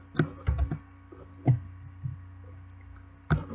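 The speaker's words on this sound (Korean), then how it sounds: "키보드로 Y 눌러주죠" Computer keyboard keys are pressed in a quiet room, giving a few sharp, close clicks spaced irregularly with a soft background hum.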